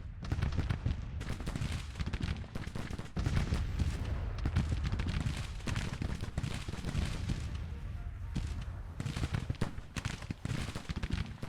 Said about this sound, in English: that's the artillery I've called up too